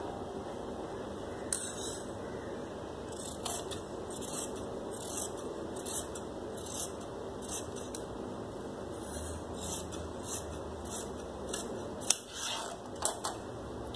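Scissors snipping through fabric for a gharara trouser, a steady series of soft, close crisp cuts repeating in a regular rhythm over a faint constant hum, with a few sharper clicks near the end.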